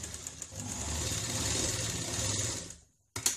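Sewing machine stitching the shoulder seam of a lined blouse, a steady close mechanical whir that runs, slows and stops, then starts again briefly.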